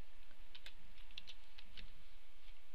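Keys of a computer keyboard tapped in short, sparse bursts while writing ActionScript and PHP code, quiet and close against a low steady hiss.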